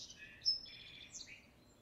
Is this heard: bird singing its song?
yes